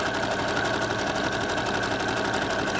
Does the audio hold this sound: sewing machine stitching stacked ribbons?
yes